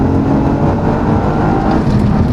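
A Toyota GR Yaris with a catless downpipe pulls hard through second gear, its exhaust a loud, dense, steady roar filling the whole stretch with no break and no voices over it.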